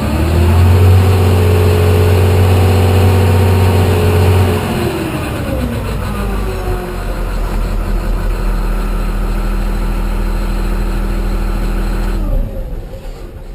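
A John Deere 470G tracked excavator's diesel engine runs steadily and loudly, dropping in speed partway through with a falling hum, then settling into a lower steady drone before shutting down near the end.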